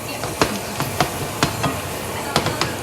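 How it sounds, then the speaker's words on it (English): Flour stirred into hot oil for a light roux for crab and shrimp sauce piquant, a soft sizzle under sharp, irregular scraping and tapping strokes of a spoon against the pot, close and fairly loud. "Gonna add some flour. Be good enough. I'm gonna stir that up."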